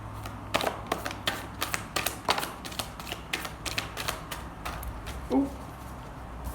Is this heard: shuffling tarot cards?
yes